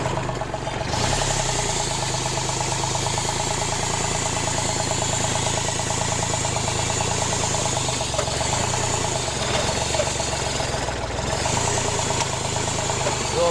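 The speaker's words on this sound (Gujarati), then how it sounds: "તમે જોજો અમે ચલાવી રહ્યા છીએ કઈ રીતે ચાલે છે ટ્રેક્ટર" A farm tractor engine runs steadily up close, a loud, continuous chugging drone with no break across the whole stretch.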